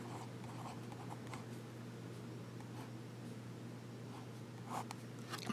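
A vintage Sheaffer fountain pen with a fine nib scratches across paper in short, faint strokes, soft repeated scritching over a low steady hum.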